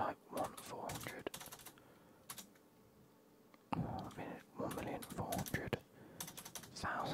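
Typing numbers on a computer keyboard during a FIFA 22 session, with bursts of quick soft key clicks separated by pauses and a faint voice murmuring underneath.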